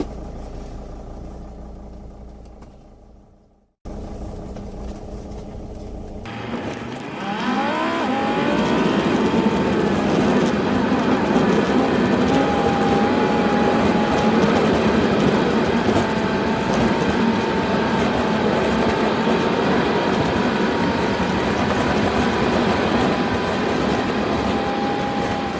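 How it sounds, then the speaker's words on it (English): 2007 Itasca Navion Class C motorhome with new rear springs on a test drive, a brief quieter passage giving way to a steady loud cabin rumble of engine and road noise that builds and holds. "We're going to head out for a test drive and see how we did."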